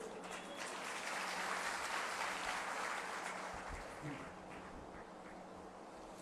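Clapping from a crowd at a rally for tribal communities in Dantewada swells to a dense, moderately loud patter and then thins out, with a voice speaking faintly beneath it.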